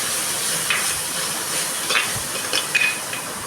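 A ground paste of chili, ginger, garlic, mint and coriander fries in oil in a clay kadai, giving a steady close sizzle with a few soft stirring scrapes and light clinks.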